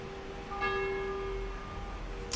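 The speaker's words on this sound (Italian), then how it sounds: "e arriva l'ora delle campane, come sentirete" A church bell ringing the hour, heard as one clear strike that hangs in a long, sustained humming decay, moderately distant over a soft steady background hiss.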